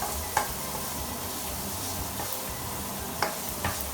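Vegetables frying in a pan while being stirred, a constant sizzle with a few sharp utensil taps against the pan and soft scraping strokes.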